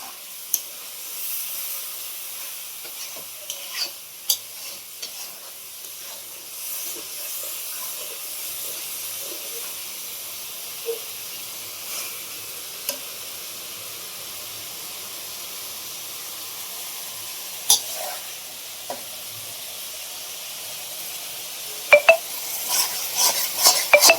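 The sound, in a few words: masala sizzling as it is fried with water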